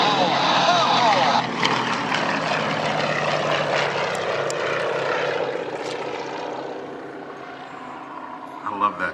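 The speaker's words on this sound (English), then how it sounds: "Hear those big throated engines spool up a bit." Red Thunder air show aircraft with nine-cylinder radial engines diving in formation at the 2011 Courtland Air Show, a loud throaty propeller roar swelling as the engines spool up and then gradually fading, with a voice talking over it.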